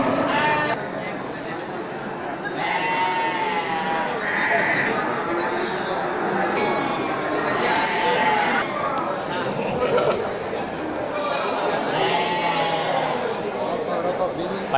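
Sheep and rams bleat repeatedly inside a pen, several animals calling over one another at close range while people talk throughout.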